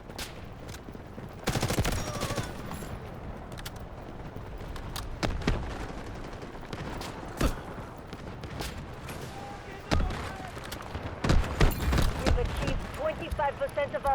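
Gunfire from the video game Delta Force rings out in scattered bursts and single shots, some loud and near, others more distant, with rapid automatic volleys; voices talk in between.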